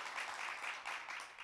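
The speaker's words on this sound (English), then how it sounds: "We can applaud that." Audience applause at a live young entrepreneur competition, a broad steady wash of clapping that holds at an even level throughout with slight swells, no voices on top.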